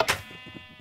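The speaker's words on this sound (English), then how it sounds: "sheep are annoying." A sheep in a block-building video game gives a single short bleat, brief and moderately loud, followed by quieter wavering tail sounds with no speech.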